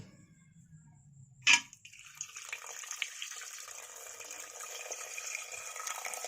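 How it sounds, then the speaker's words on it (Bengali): Water poured into a pan of soaked chickpeas: a sharp clank of the vessel, then a steady soft splashing pour, close and fairly quiet, no talking. "এর মধ্যে দেবো একটুখানি জল"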